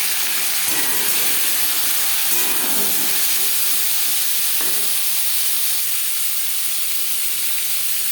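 Jute leaf stems going into hot oil with fried cumin seeds and bay leaf, giving a steady, loud sizzling hiss that carries on unbroken throughout.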